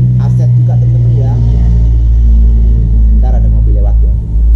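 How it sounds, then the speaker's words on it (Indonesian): A car passes by outside on a street near a small photocopy and stationery shop, a steady low engine rumble that stays loud and close throughout, with someone talking over it. "Ada mobil lewat ya."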